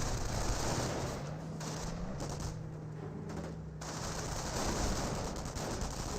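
Sustained heavy gunfire in a World War II real-time strategy battle in Company of Heroes, with dense rattling bursts, machine-gun fire and rifle volleys layered into a continuous loud barrage.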